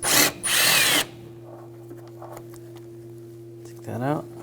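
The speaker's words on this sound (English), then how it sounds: "We're going to take these two bolts out," A power tool with a 10mm socket spins out bolts on a 2000-2006 BMW X5 3.0L engine, two short loud whirring bursts at the start and another near the end, with someone talking in between.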